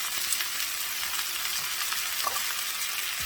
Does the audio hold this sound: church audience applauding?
no